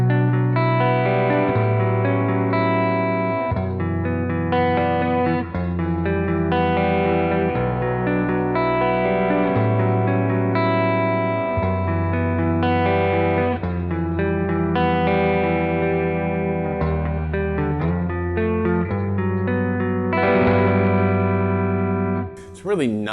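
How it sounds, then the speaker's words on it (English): Simple three-note chords mixed with ringing open strings, played on a seven-string guitar through effects such as distortion and chorus; the chords sustain continuously and change every second or two. "a lot of these are just simple 3-note chords with my left hand, mixing in some open strings, which creates a nice textural sound"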